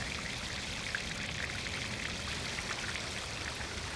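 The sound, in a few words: water falling down a marble fish-scale chador waterfall in Mughal garden fountain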